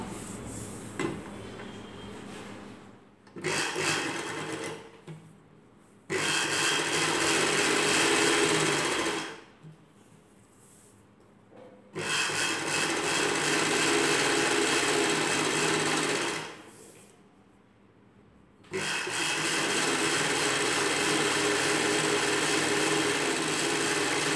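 A sewing machine runs through night dress fabric in four long bursts of steady, close whirring, separated by short quiet pauses.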